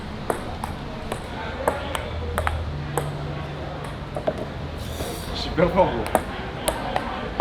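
Ping-pong ball struck back and forth in a casual table tennis game, sharp light clicks at an irregular rally rhythm, close by, under chatter and voices.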